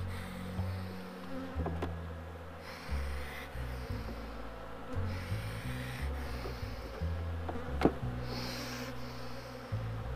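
Honey bees buzzing continuously at a beehive nucleus, a close, steady drone with shifting pitch, punctuated by a few sharp wooden knocks and clicks from handling the hive.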